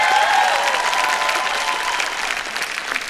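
An audience at a stand-up comedy battle bursts into dense applause, loud at first and tapering slightly, with a few whoops and cheers rising above the clapping.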